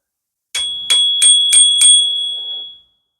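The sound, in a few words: bicycle bell ringing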